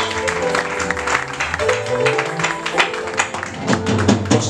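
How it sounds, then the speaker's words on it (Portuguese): Church congregation applauding during a consecration service for ministers, a steady spread of clapping with music or voices in the background and some speech underneath. "Aplauda mais."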